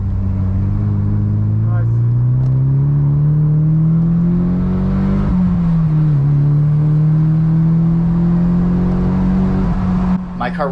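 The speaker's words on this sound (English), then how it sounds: "Now winding out third, but getting ready to drop down to second for this really tight corner coming up" A Nissan Silvia's engine winds out hard in third gear on a race track, a loud continuous rising drone that dips briefly at a shift and keeps climbing, with a short spoken remark near the end.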